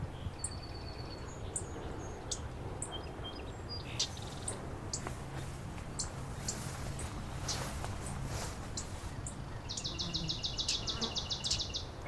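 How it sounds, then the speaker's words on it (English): A swamp sparrow sings a fast, even trill from a marsh, the buzzy repeated notes coming twice and ringing out clearly near the end among scattered chirps and quiet background hum. "Swamp sparrow."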